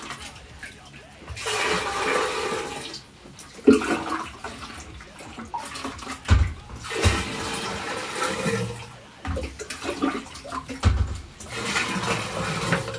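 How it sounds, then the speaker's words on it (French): Liquid pours steadily into a pitcher as about four litres of disinfectant solution are filled for cleaning a soda keg, a continuous rushing splash with a few knocks and clunks. "prendre un pichet et de le remplir de 4 litres environ de solution désinfectante"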